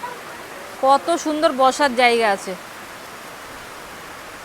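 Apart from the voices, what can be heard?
rain falling at North Andaman beach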